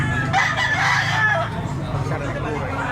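A spangle white bullstag rooster at a Tabunok, Cebu fowl market gives one loud, close crow lasting over a second, while people chatter nearby.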